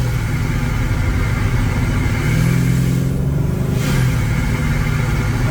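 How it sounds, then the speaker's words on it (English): Engine fitted with a TorqStorm TS84 supercharger on a stock block revs hard in third gear, a loud, sustained roar with a rising whine and a short dip before it surges again. "I'm gonna downshift it here to third gear. See if we can whomp it one more time."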